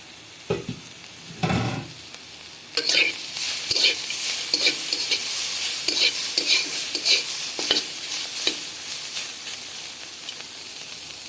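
Bitter gourd (karela) fries in a pan with a bright, continuous sizzle and hiss, broken by a few clattering stirs and bumps of a spatula against the pan, no talking.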